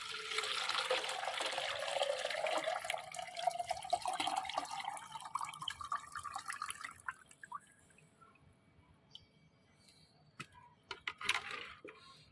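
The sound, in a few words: homemade liquid plant feed being strained into a vessel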